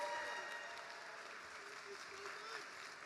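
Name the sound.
audience applause for the DJ at a live show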